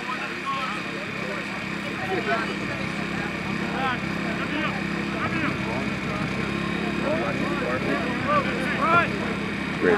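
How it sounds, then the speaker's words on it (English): A helicopter flies overhead during a university rugby match, its steady rotor drone running the whole time beneath crowd chatter and shouts. "Chopper!"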